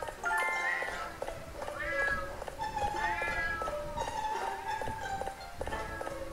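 A cat meows repeatedly in a scary-themed escape puzzle game, a string of clear, close mews in irregular rhythm over a busy background of game sounds and footsteps.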